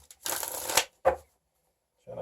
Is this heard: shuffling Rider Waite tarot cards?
yes